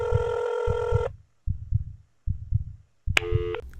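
Phone call ringback heard through a handset: a steady tone, then a low pulsing pattern of repeated beats, then a tone again, close and clear with no talking.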